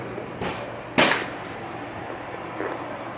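A single sharp shot from a PSA AR10 rifle chambered in .308 firing Norma 150-grain soft-point ammunition at a 50-yard range, heard as one sudden crack at moderate distance with faint background noise around it.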